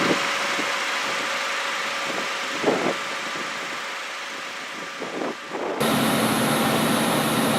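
The engine of a Jaguar XJ-SC with a 5-speed gearbox runs and idles with a steady mechanical hum. Faint knocks are heard along the way, and the tone shifts abruptly near the end.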